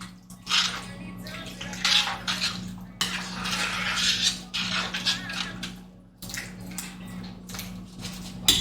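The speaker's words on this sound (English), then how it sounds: "Let's give this guy a stir." Shrimp bisque being stirred in a pot, with a spoon scraping and clinking against the metal and soft liquid sloshing in irregular strokes against a low steady hum.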